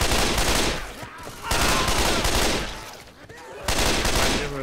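Sustained video game gunfire in Left 4 Dead, dense overlapping bursts from several weapons in loud waves separated by brief dips, with no talking.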